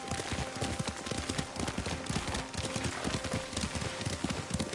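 Rapid galloping horse hoofbeats in the video game Ghost of Tsushima pound steadily throughout, with dense thudding strikes under a constant noisy wash of wind and motion.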